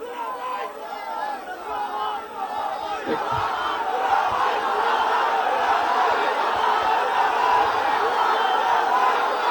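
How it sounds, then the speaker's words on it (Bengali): Crowd chanting slogans at a canal re-excavation inauguration rally in Kandigaon, Sylhet: a dense mass of voices roars continuously and grows louder, close and loud, with a speaker's voice trying to cut through. "আস্তে আস্তে স্লোগান দিলে কথা শুনতে পাবো না তো"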